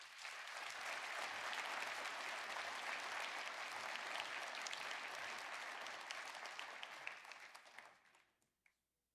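An audience at the Williston Basin Petroleum Conference in North Dakota claps in a dense, steady round of applause lasting about eight seconds before tapering off.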